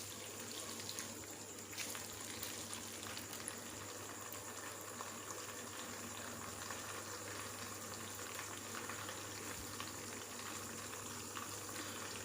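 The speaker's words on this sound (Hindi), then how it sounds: "इसी घी में मैं ये मसाले डाल रहा हूँ। इन्हें थोड़ा सा फ्राई कर लेते हैं" Spices sizzle softly in hot ghee while a desi chicken masala is cooked, giving a faint, steady crackle and bubbling that continues without pause.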